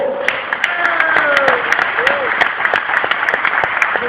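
A church congregation applauding Jesus during a worship service, dense sustained clapping from a crowd with voices calling out over it throughout.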